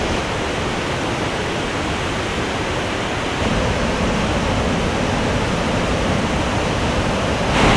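A large waterfall crashes down hard, producing a dense, loud, unbroken roar of falling water close by that grows slightly stronger partway through.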